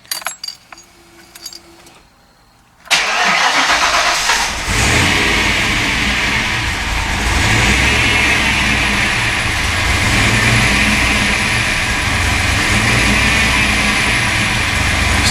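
Keys rattle briefly, then a turbocharged Ford Mustang Foxbody with an On3 turbo fires up loudly and settles into a rough, surging idle that drones on close by.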